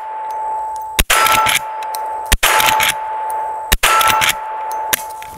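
A Marlin 1894 lever-action rifle fires .357 cartridges outdoors, four sharp, loud shots spaced roughly a second and a half apart, each followed by a ringing echo.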